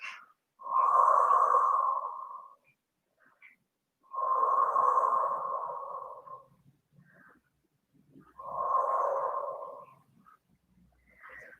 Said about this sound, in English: take your head down, and just take some deep breaths there.